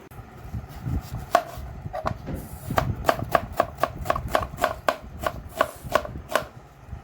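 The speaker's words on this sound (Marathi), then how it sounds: "असे पातळ पातळ काप करायचे आता कांदा मोठा आहे त्याच्यामुळे आपल्याला याला सेंटरमधून अशी आडवी कापायचे" A large onion sliced thin with a knife on a cutting board for crisp onion fritters, giving a steady run of sharp, close chopping taps that quicken and settle into an even rhythm, with no voices.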